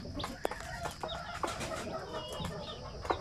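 Basilan chickens and young chicks in a breeding pen give soft, scattered clucks and peeps, faint and fairly close, repeating irregularly throughout.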